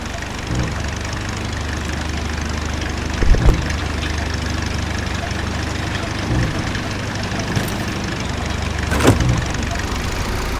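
A car engine idles in the video game Titan Chaser, a continuous low droning hum at steady loudness with a few brief knocks and clunks scattered through it.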